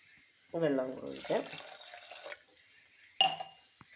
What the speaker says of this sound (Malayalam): ഇനി നമുക്ക് 2 ഗ്ലാസ് വെള്ളം കൂടി ഒഴിക്കാം